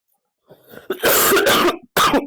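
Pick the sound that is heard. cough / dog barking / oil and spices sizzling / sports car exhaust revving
cough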